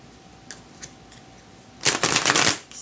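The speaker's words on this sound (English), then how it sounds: "let's shuffle and get started." Tarot cards being shuffled, a few soft isolated taps followed by a loud, rapid riffling burst close to the microphone lasting about a second.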